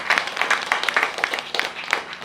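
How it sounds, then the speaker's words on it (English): An audience claps for H.D. Goswami at a kirtan and lecture gathering: steady, moderately loud applause from a crowd, with a few faint voices mixed in. "Let's give a big round of applause for His Holiness H.D. Goswami for gracing us with his presence."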